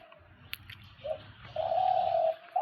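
A dove kept under a cloth coos in the sunlight, a deep-voiced bird giving a few soft, low calls, with a longer steady coo near the end, close and alone.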